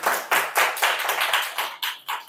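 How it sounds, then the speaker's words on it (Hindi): A classroom audience claps during a teacher's UKGS district-series lesson. About a dozen sharp, close claps come in a quick, slightly uneven rhythm and fade toward the end. "ताली मत बजाओ"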